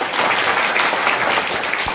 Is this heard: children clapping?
yes